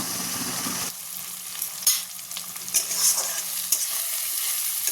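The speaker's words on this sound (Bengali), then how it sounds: "চলুন মশলাটা একটু ভাজা ভাজা হয়ে যাক" Cumin, coriander and turmeric spices fry in hot oil with a steady close sizzle and a few scraping stirs, and there is no talk.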